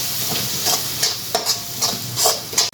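Pasta with cheese sauce being stirred in a sizzling frying pan, with several distinct scraping strokes spaced roughly half a second apart over a steady crackle.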